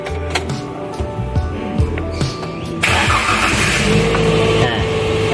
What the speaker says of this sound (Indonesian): Lalu kita menyalakan engine.